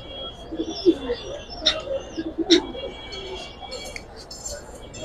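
Silver military pangkhi pigeons give soft, intermittent coos and a few brief calls, moderately close, with faint voices and background noise between the calls.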